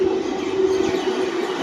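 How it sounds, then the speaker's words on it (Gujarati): A train pulls into Aambaliyasan railway station with a steady, even rumble and a faint sustained hum, heard at moderate distance without speech. "જો રેલગાડી આવે જો"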